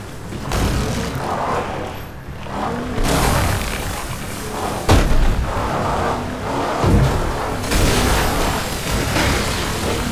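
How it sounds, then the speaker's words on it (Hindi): Gunfire and heavy booms in a Fortnite match, dense and loud with repeated sharp blasts over a constant roar of noisy in-game action, nobody talking. "आगे फायरिंग आ रही है भाई"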